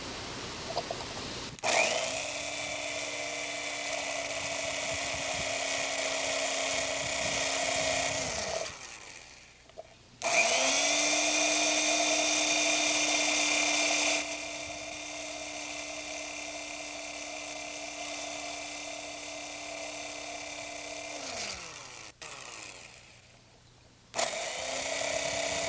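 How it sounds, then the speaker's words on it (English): An electric drill bores holes into wood in three long runs. Each run has a whining spin-up, a steady high-pitched drone and a wind-down, with short quiet gaps between runs. "we drill on each of the 4 squares"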